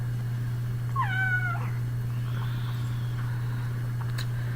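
Domestic cat giving a single clear meow indoors, fairly close, over a steady low electrical hum with quiet room background.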